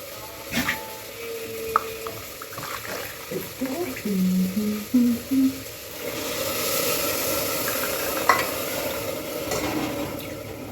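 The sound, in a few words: water added and stirred into rice in a pot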